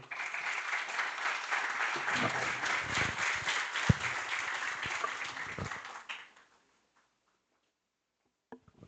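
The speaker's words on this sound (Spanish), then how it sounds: "Un aplauso, por favor." Audience applause for a keynote speaker at a higher education conference, a dense steady clapping that fills about six seconds, then stops abruptly, leaving near silence with a couple of faint knocks.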